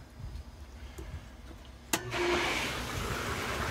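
A swimming pool sand filter pump switches on with the valve set to rinse: a sharp click, then a steady, broadband rush of running water and motor hum fills the rest, close and even.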